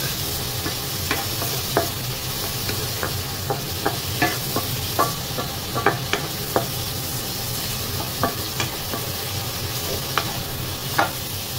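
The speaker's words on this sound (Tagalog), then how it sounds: "Palambutin lang muna natin yung ating mga ricado, yung kamatis at saka sibuyas" Tomatoes and onions sauté in a pan, with a steady soft sizzle underneath and a run of scraping stirring knocks recurring every half second or so, close and fairly quiet, no voices.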